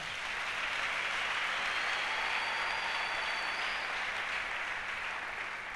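Steady applause from a church congregation, a dense, even wash of clapping that holds at a constant level throughout without breaks or voices over it.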